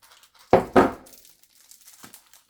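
Scissors snipping the plastic back of a Halloween goody bag, two close crinkly cuts in quick succession followed by faint rustling and a softer crinkle.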